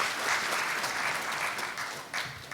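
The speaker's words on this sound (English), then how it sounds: "Give him a round of applause one more time" A crowd applauds steadily at a police reform and accountability town hall, dense clapping that holds for a couple of seconds before thinning slightly at the end.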